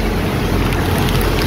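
A passenger ship pushes through open water, and waves rush past in a constant loud wash. Heavy wind buffets the microphone throughout.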